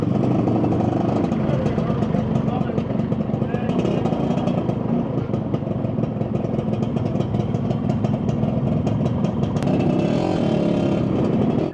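A 30-year-old Honda NovaRS 110 motorcycle engine running steadily while riding, a continuous mid-pitched drone with wind rush, with someone talking over it throughout.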